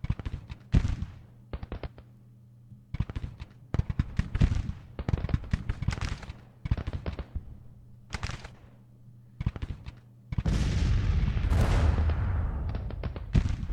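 Civil War battle gunfire and artillery in a strategy game, with rifle volleys crackling in repeated clusters of sharp reports, then a heavier sustained roar of massed fire and cannon toward the end.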